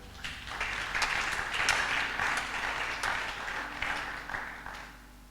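A church congregation applauding to acclaim the Lord during a prayer service, a steady wash of clapping rising and falling for several seconds, moderately loud, with faint voices beneath.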